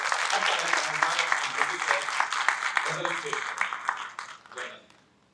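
Applause fills the hall at an Urdu poetry mushaira, a brisk burst of clapping from the audience with some talk mixed in, thinning out and dying away in the final second.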